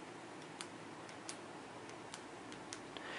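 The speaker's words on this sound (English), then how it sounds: "one of the other features it says it has is a soft clicking mechanism" Zebra F-701 ballpoint pen being clicked, its soft clicking mechanism giving a series of faint, close ticks at irregular intervals over a hiss of background noise.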